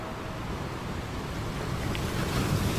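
A ship sailing out across a calm ocean in an animated horror story, heard as a steady wash of waves and wind rushing, broadband and continuous, slightly swelling toward the end with no voices.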